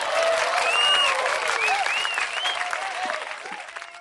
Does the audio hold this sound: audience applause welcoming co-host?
yes